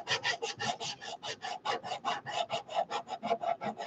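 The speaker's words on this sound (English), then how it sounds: "probably if you had a coarser sandpaper than what I'm using, you would have better luck" A wood panel being sanded by hand with fine sandpaper, quick rhythmic rasping strokes of about five per second, close and steady, with no talking.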